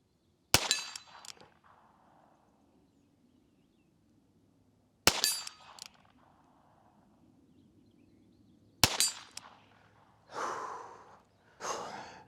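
Three sharp, isolated shots from a Smith & Wesson revolver ring out seconds apart, each with a quick metallic clang of the target, followed by heavy breathing and sighs near the microphone.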